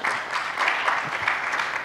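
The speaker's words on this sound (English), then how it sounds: "let's give them a round of applause" A brief burst of steady audience applause at a conference talk on continuous testing: dense clapping from many hands, even and unbroken.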